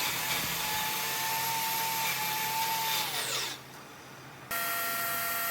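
A Grizzly track saw cutting plywood to length runs at a steady, loud whine for about three seconds. It then winds down to near-quiet, and a fainter steady hum returns near the end.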